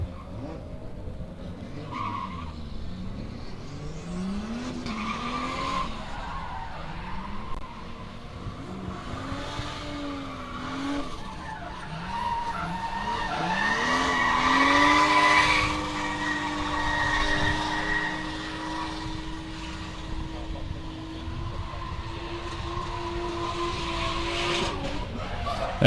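A 750-horsepower drift car skids around Meremere Drift Park, its engine revving and wailing through repeated rising pitch sweeps while the tires squeal and scrub, steady and moderately distant for about half a minute.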